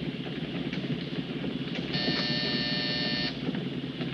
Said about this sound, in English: Hit that buzzer.